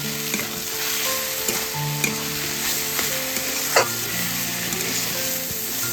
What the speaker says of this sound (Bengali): চিনিটা দিয়েছি, একটু নাড়িয়ে দিচ্ছি।